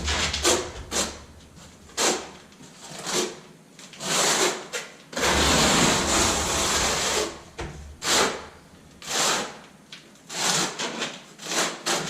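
Repeated rough scraping strokes of a trowel spreading tile mortar on a floor, close up, in an irregular back-and-forth rhythm with no talking.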